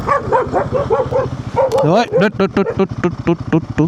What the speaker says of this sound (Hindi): एक कुत्ते मुझे देख के भौंकने लगे